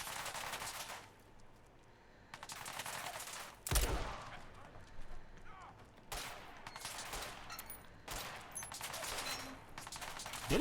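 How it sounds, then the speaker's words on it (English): Gunfire in the video game Fallout 4, a single-shot shotgun in a metro setting: loud blasts and bursts of shooting repeat over the passage, with rumbling reverberant decay between them. "It's like single shotguns, like the shotgun that we had earlier."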